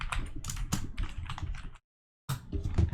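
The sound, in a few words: typing on a computer keyboard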